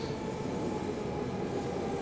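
Simulated ET 420 S-Bahn electric commuter train from Train Simulator Classic running near Frankfurt, a steady loud interior rumble and rolling hum with a faint high whine, continuous and alone.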